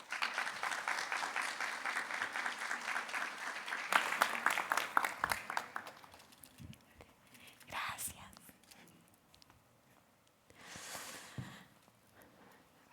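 Audience applause at the opening of an annual research, creation and innovation gathering, steady clapping for about six seconds that dies away into room noise, with a soft voice and small shuffles after.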